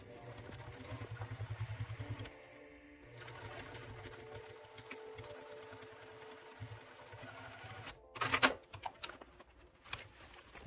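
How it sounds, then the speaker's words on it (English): A sewing machine stitches fabric for a project bag, a steady close mechanical whir running for about two seconds, pausing, then resuming more softly before a few louder clacks and rustles of handling near the end. "Now we're just going to sew down."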